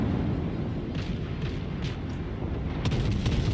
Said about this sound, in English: it's a secondaries party with two German battleships at close range